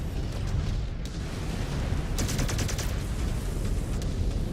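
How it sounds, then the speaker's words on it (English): LRM missile volleys fire in the MechWarrior 5: Clans video game, a dense, loud roar of rapid launches and booming impacts filling the whole stretch, with a sharper crackling burst partway through and no talk. "Go ahead and fire LRMs there."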